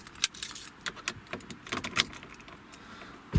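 Car keys for a 2018 VW Caddy jangle and clink close by in several quick bursts of metallic rattling, with a soft low thump at the very end.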